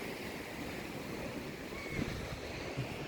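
Sea waves at Palolem beach wash in as a soft, continuous surf hiss with faint wind noise over the microphone, heard from a little distance and fairly quiet, no talking.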